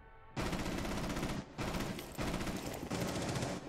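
Loud automatic gunfire in the Rainbow Six Siege video game, fired in dense sustained bursts separated by brief pauses, with no talking over it.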